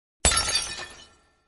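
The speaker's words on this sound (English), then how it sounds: "The vase fell with a crash." A vase falls in a single sudden crash of breaking glass, a sharp shattering burst that rings and scatters briefly before fading out.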